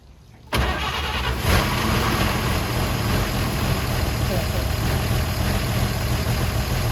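A 1953 Chevy 3100 pickup engine, sitting unstarted for over forty years, cranks and catches with choke pulled, then settles into a loud steady rumbling idle close by; voices are heard briefly.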